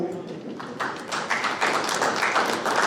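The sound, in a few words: audience applause for a speaker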